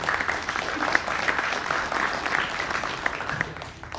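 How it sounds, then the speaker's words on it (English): Steady applause from a seated audience greeting a presenter about to speak on odor control and water systems, dense continuous clapping at moderate level that fades slightly near the end. "Let's give him a round of applause."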